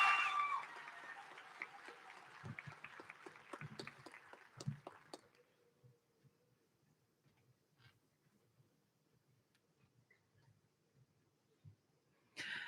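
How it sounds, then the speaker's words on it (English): Scattered applause for graduates at a collegiate high school commencement ceremony, a short burst of distant clapping that quickly thins into a few isolated claps before near silence. "Let's give them a round of applause"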